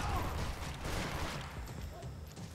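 Gunfire in Max Payne 3 during an intense shootout, dense and continuous, rumbling bursts running throughout with no clear gaps.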